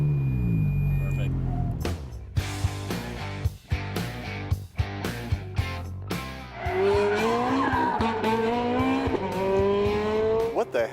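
Exotic race cars rev at Las Vegas Motor Speedway, with sharp engine bursts and gear changes, then a long wavering tire squeal as a car skids, loud and close, under a speaking voice.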